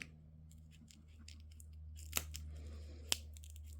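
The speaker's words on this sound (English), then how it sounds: "I'm just going to cut out my notch." Sharp scissors snip a notch in fabric while trimming an in-the-hoop embroidered jewelry trinket keeper: two crisp, close cuts stand out over a quiet room hum.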